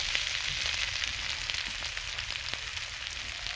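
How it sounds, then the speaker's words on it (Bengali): Prawns and onions frying together in a pan for a spinach dish, a steady close sizzle with faint crackles and a low rumble underneath, alone with no talking. "চিংড়ি মাছের সঙ্গে পেঁয়াজগুলো ভালো করে ভেজে নেব।"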